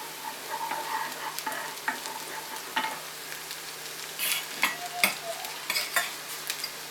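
Tomato paste and minced meat fry in oil and butter in a pan, with a continuous soft sizzle under repeated scraping stirs and light utensil knocks, fairly quiet and close.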